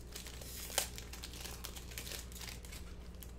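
A Panini Mosaic football card pack is torn open up close, a quiet continuous foil crinkle with one sharp rip near the start, then steady crackling of the wrapper, no voices.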